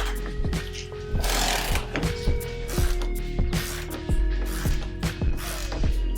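Repeated ratcheting clicks and metallic knocks from a wrench working a bolt loose on a BMW E39 M5 subframe during a suspension repair, sounding close and steady in several bursts over a constant low hum.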